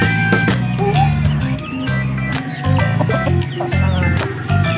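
Crossbreed chickens clucking close by in a yard, a busy overlapping chorus of clucks and calls with a rooster-like note, steady and loud throughout.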